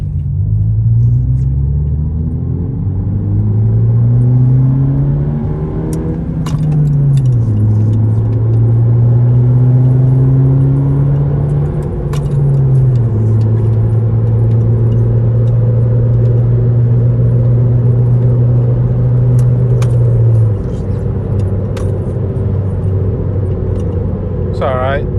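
Inside a 10th-generation Honda Civic hatchback with muffler and resonator delete, driving in second gear at around 50, the exhaust gives a loud, deep, steady drone that climbs and drops as the car accelerates and shifts, with a voice speaking over it.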